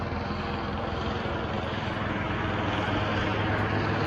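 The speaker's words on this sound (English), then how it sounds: "we even have one of the police helicopters here" A police helicopter drones overhead with a steady, loud rotor thrum and engine rumble, constant throughout.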